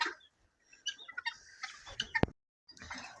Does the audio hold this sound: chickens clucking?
yes